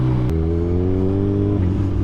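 A Kawasaki Z1000R motorcycle engine revs up close, its loud, steady harmonic drone rising and holding, then dropping back briefly near the end.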